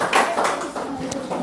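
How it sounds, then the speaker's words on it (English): Classroom clapping for a student, a few scattered bursts of hand claps rising and fading over a murmur of voices, with a teacher speaking in between. "Let's clap for her."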